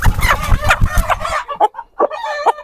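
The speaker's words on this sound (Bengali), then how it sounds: "আমার হাতে একটি মোরগ রয়েছে" A healthy rooster held in the hands gives loud, close clucks and agitated squawks in rapid bursts, then a few shorter calls after a brief pause.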